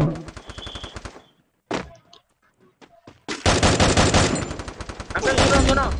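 Gunfire in the video game Free Fire: dense bursts of rapid shots open the clip, a brief quiet gap with a few scattered shots follows, then loud sustained automatic fire fills the rest.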